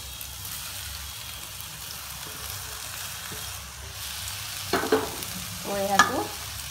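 Boiled Maggi noodles and pasta are stir-fried in a pan for a Korean-style dish. A soft, steady sizzle runs throughout, with a couple of brief scraping, clattering stirs near the end.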